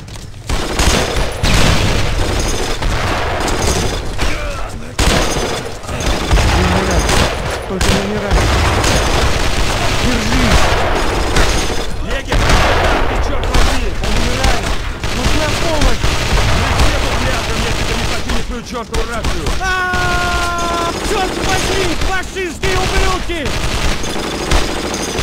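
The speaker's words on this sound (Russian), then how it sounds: "Продолжайте огонь!" Loud, continuous gunfire from the Brothers in Arms video game, with rapid machine-gun bursts, rifle shots and booming blasts layered densely, while voices shout orders over the battle.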